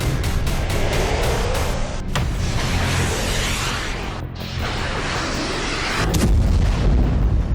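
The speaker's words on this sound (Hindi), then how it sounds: "जबरदस्त धमाके का यह वीडियो लुहांस्क का है।" Heavy blast in Luhansk from a ground-launched small diameter glide bomb, a loud sustained roaring rumble with crackling debris lasting several seconds, a brief dip, then a renewed deep boom near the end; no talking.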